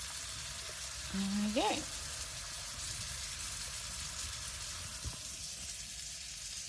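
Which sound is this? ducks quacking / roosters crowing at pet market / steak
steak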